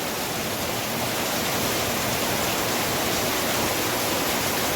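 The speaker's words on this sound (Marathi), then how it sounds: "लय जोराचा पाऊस हा" Heavy rain pours steadily and loudly during a Janmashtami festival preparation day at home, a dense, unbroken hiss of downpour filling the space with no pauses and no voices.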